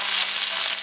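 Mustard seeds and a sprig of curry leaves sizzling in hot coconut oil, a brief, bright, steady hiss heard up close with no voices.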